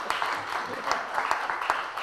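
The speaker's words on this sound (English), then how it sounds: "You can clap now." Audience applause after a lecture on Chinese legends and lore, with brief, fairly quiet scattered clapping in a hall.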